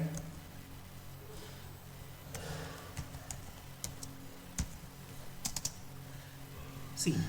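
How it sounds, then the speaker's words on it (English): Computer keyboard typing in a word processor, with scattered key clicks spread unevenly over several seconds under low room noise, fairly quiet and close. "Suppose here if I type any wrong spelling"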